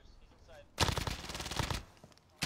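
Automatic gunfire in an online shooter video game, a loud close burst of rapid shots lasting about a second with quieter game sounds before and after.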